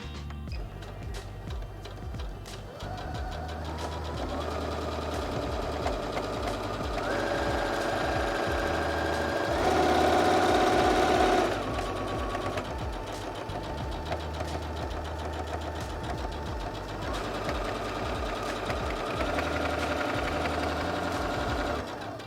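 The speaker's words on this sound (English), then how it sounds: "Bring it down low and press the button here to start sewing." A Heavy Duty HD6805C sewing machine runs at low speed with a steady, rhythmic mechanical chugging, close and continuous, with slight changes in pitch and pace over about twenty seconds.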